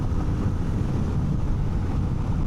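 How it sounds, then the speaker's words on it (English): Heavy, steady wind roar buffets the microphone on a 2025 Honda XR650L dual-sport motorcycle cruising at about 70 mph on the highway, with a low rumble underneath and no pauses. "There's a lot of wind."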